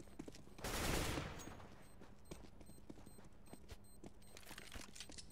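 Gunfire in the Counter-Strike video game: a loud burst of rapid shots near the start, then scattered, sharper single shots and clicks at a steady moderate level, with no talking.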